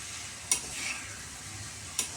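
Marinated chicken frying dry in mustard oil in a pan, a continuous close hiss of sizzling with two brief sharp clinks of stirring.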